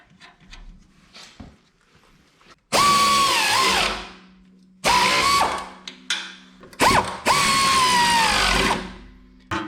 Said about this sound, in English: we have to put the nuts on the bottom of the spring cradle and tighten them down.